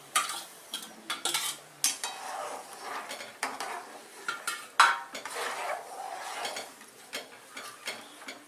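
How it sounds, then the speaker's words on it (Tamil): Roasted rava, rice and toor dal are stirred in a metal pot for thiruvathirai kali, a ladle scraping and clanking in an irregular rhythm of sharp knocks and gritty drags, close and fairly loud. "நல்லா கலரணும்."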